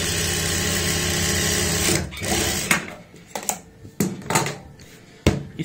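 Sewing machine stitching a 1-foot-wide seam on a blouse with four tucks, starting as a steady continuous whir that stops around two seconds in, followed by scattered clicks and short handling bursts.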